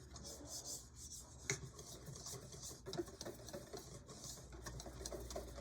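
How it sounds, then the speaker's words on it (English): A wire whisk works flour into bread stick dough in a bowl, giving a steady scraping, rubbing rhythm with a few sharper knocks against the bowl, close and fairly quiet. "Just going to use a wire whisk. I'm just going to mix that all together."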